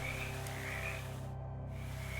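Frogs croak in a swamp in the game Shadows Over Loathing, a rhythmic low pulsing chorus layered with higher trills, steady and fairly quiet throughout.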